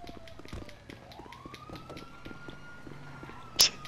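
A fire truck siren from a video game wails in rising and falling sweeps at moderate distance under game background noise, with a short sharp click near the end.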